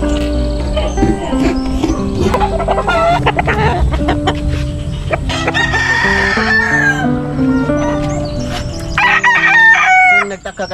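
Pet chickens at a rural fishpond: a rooster crows loudly and repeatedly over steady clucking from the flock, with the calls layered and close throughout.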